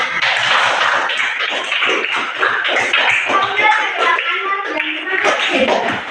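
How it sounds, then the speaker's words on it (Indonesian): A group of children applaud themselves at the end of a class, with quick uneven claps mixed with their voices throughout. "Berikan tepuk untuk diri kita sendiri."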